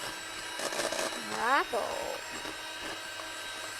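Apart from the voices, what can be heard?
electric mixer mixing cake filling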